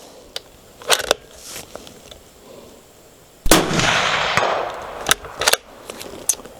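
A Sig Cross 6.5 Creedmoor long-range deer rifle is fired at a target. A few light handling clicks come first, then one sharp, loud shot with a trailing rumble that fades over a couple of seconds.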